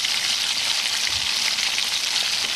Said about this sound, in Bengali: এখানে আমি কয়েক সেকেন্ড টমেটোগুলোকেও বেশ ভালো করে ভেজে নেব, যতক্ষণ না টমেটোগুলো একটুখানি নরম হচ্ছে